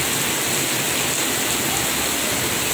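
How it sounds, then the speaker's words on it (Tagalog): A heavy downpour roars steadily, dense and loud, with no voices over it. "Lakas talaga ng ulan."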